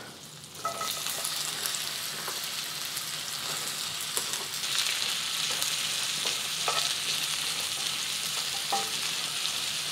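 Onions sizzle steadily in unsalted butter over medium heat, with occasional stirring clicks from a utensil in the pan; close, continuous frying with no talk.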